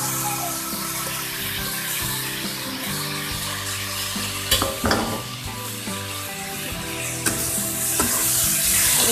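Tomato and capsicum pieces sizzle and fry in a hot pan with a steady, loud crackle. A few clinks of stirring come in midway, and no one talks.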